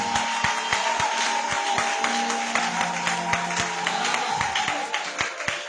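A church congregation claps in a steady, regular beat during a service, the sharp hand claps evenly spaced and layered over sustained musical tones and a broad room hum, with no clear talk.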